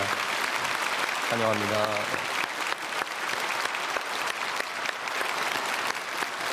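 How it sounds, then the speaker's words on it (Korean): A church congregation at a Sunday worship service bursts into steady, loud applause that fills the whole clip, with a brief spoken welcome rising over the clapping near the start. "우리 인사하실 때 크게 박수로 환영하겠습니다"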